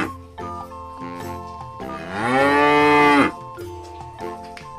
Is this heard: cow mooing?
yes